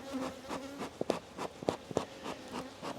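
Honeybees buzz inside an open hive, a steady close drone with individual bees sweeping past the microphone in brief louder passes.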